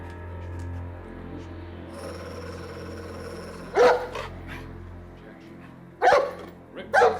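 A dog in a quiet house at night barks in three sharp bursts, spaced apart and fairly close, over a low steady background hum.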